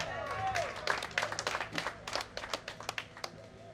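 Scattered, faint hand claps from party members at an outdoor political meeting, uneven and thin, with a brief tonal sound and background noise early on.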